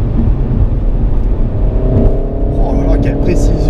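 A Renault Mégane 4 RS hatchback drives hard through a corner, its engine droning loudly and steadily from inside the car, with tyre and road noise and brief higher-pitched sounds near the end.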